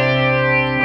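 An electric guitar chord rings out through the chorus effect of a cheap PocRock multi-effects pedal, a loud, shimmering sustained tone that holds for under a second before a quick change.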